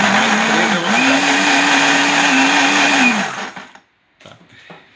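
A household blender purées carrots, its motor whining steadily with a wavering pitch for about three seconds before cutting out, followed by faint clicks and handling noises.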